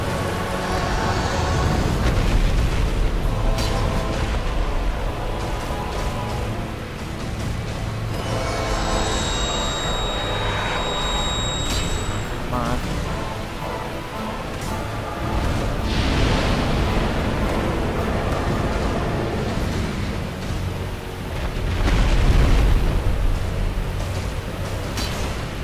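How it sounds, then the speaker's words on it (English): A dragon unleashes a fire breath attack in Dark Souls, a loud sustained roaring rush of flame and rumble that swells and surges over many seconds. "Wanna hit me with some fire breath?"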